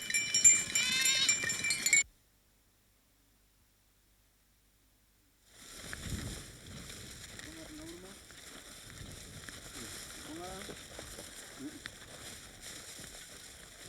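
Goats bleat in a Maasai village, with several wavering calls at moderate distance over steady outdoor ambience. Before them comes a stretch of other sound, then a gap of near silence.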